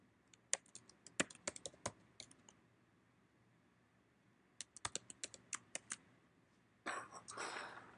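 A password typed on a computer keyboard: two short bursts of quiet, close key clicks with pauses between, followed by a brief rustling noise at the end.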